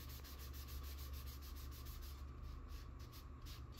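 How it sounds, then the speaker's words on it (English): Sandpaper rubs back and forth along the body tube of an Estes Hi-Flier XL model rocket in steady, repeated close strokes, with a low hum underneath. "we also are sanding the body tube"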